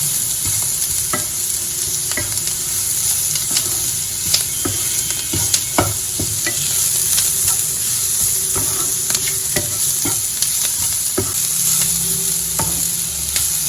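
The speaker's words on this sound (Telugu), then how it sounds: "ఈ మొత్తాన్ని కలిపి బాగా వేపుకోవాలండి." Egg curry masala with pepper powder stir-fried in a pan, a continuous bright sizzle with repeated spatula scrapes and knocks at an irregular rhythm, close and loud with no voices.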